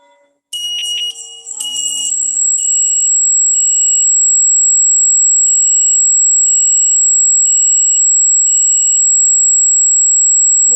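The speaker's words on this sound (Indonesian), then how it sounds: "Kemudian kita akan mencoba alarm." An IoT home security system alarm blares loudly in a house, a shrill high-pitched electronic tone pulsing in a rapid repeating pattern and then holding almost continuously, with no talking.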